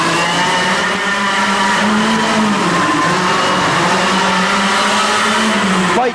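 Heavy two-cycle go-karts race on the Orange County Fair Speedway, their high, buzzing engines wailing loudly and continuously with pitch rising and falling as they pass through the turns.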